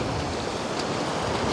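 Sea waves surge at high tide along a fishing shore, a steady broadband wash of surf mixed with gusting wind, loud and continuous without a break.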